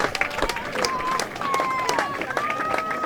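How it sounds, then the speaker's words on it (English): A baseball crowd at Veterans Field rises in a sustained murmur of cheering and scattered claps, moderately distant, with whistles cutting through the steady crowd noise. "Crowd on their feet here at Veterans Field"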